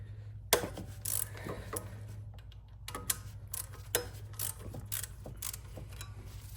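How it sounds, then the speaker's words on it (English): A ratchet wrench loosens bolts on a Toyota engine during work on a stuck Valvematic rocker arm actuator. Quiet, close, rhythmic clicks come in short runs, with small metallic knocks and no talking. "Okay, I found my ratchet, which disappeared magically."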